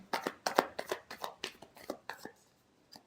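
Tarot cards being shuffled in a run of about ten quick, crisp riffling bursts, close and fairly soft, trailing off into near silence with one last faint flick.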